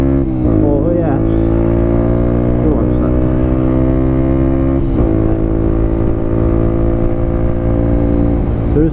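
A Honda XR125 motorcycle runs flat out with a loud, continuous engine drone close up, its pitch shifting slightly as the throttle changes.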